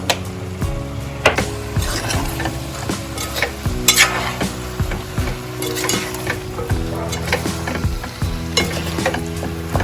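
Chicken biryani masala is stirred in a pot, with repeated scraping and clanking strokes of a spoon against metal over a steady low sizzle, close, loud and rhythmic throughout with no voices.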